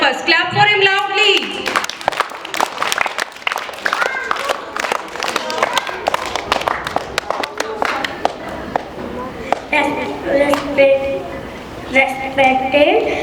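An audience at a school English poem recitation competition claps for a young student performer. The dense, rapid applause runs throughout, close and fairly loud, with voices and some cheering mixed in.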